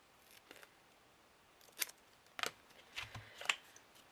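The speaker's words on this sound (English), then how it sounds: "Again, cut yourself a small piece." A few sharp scissor snips cutting a small piece of material for a shadow box craft project, quiet, close and spaced out over a few seconds, with no voices.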